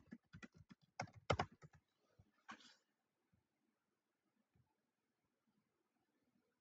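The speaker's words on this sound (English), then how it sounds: "Let's type in Roger Rabbit up at the top search bar." Quick bursts of keystrokes on a computer keyboard, typed close and clear in a quiet room, with a final lone key tap after a long pause.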